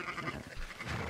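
Sheep in the video game Red Dead Redemption 2 bleat in one short, wavering cry at moderate volume, set against a dense background of game ambience.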